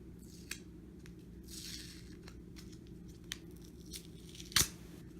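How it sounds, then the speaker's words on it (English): A sticky lint roller or tape picks up a loose pom pom yarn mess, making quiet tacky peeling and rustling sounds, with a louder sharp rip near the end. "To get the mess up, all you do is use a lint roller."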